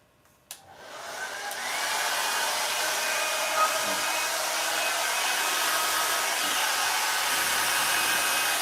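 A hair dryer on its cool setting switches on with a click and runs as a steady, even whoosh of airflow, close and continuous to the end.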